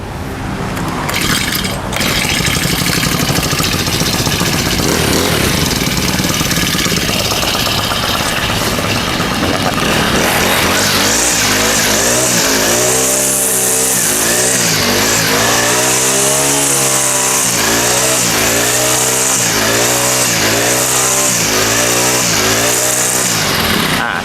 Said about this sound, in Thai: เราเร่งเครื่องนิดนึง แล้วก็กระแทกลงพื้นอย่างนี้เลยนะครับ